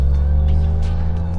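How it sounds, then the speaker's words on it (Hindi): A simulated sports-car engine note from the speakers of a 2025 MG Cyberster electric roadster, a steady, loud low-pitched drone like a petrol engine, continuous throughout with faint speech underneath. "जो कि बेसिकली उस तरह की साउंड है जैसे आपने आइस इंजन वाली गाड़ी को ड्राइव करते वक्त महसूस की"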